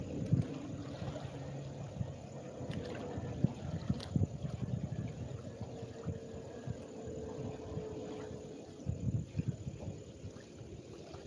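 Wind buffets outdoors beside water on a carp-fishing trip, making a steady low rumble with gusty bumps across the whole stretch.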